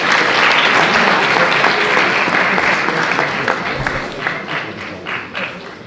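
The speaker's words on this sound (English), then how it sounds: "okay, give them a round of applause." Audience applause fills a school assembly, a dense, loud wash of many hands clapping that holds steady and then thins slightly toward the end, with a few individual claps standing out.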